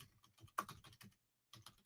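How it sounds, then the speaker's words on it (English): Someone types on a computer keyboard with quick, close, light clicking keystrokes, a short pause, then a few more taps. "I'm just typing in"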